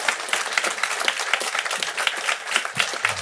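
A crowd at a political meeting on industrial sovereignty applauds with steady, dense clapping, moderately loud and continuous throughout, with individual claps standing out now and then.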